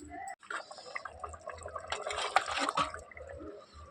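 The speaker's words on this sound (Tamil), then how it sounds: "இப்போ இந்த மீனை குழம்புல சேர்த்துக்கிறேன்" Pieces of pond-caught fish dropping into a simmering mango fish curry at home, giving soft liquid splashes and bubbling with a few scattered drips, close and moderately loud, with no talking.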